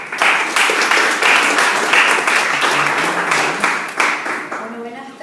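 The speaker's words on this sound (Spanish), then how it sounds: "vamos a dar un fuerte aplauso a los invitados" Audience clapping for guests at a literary conversation event in a bookshop setting, a loud, fairly dense burst of applause that fades toward the end, with a voice briefly audible beneath it.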